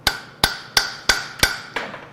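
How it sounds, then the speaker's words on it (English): Six sharp metallic hammer strikes drive a 6mm metric socket onto a bolt in a steady rhythm, close and loud, each blow leaving a brief bright ring. "we're going to hammer a 6mm metric socket onto it"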